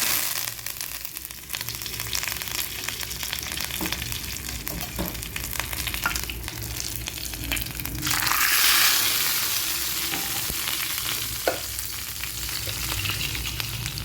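Dried red chilies, mustard seeds and cumin frying in hot oil for a tamarind pepper rasam, a continuous loud sizzle that swells briefly midway, with occasional pops and stirring.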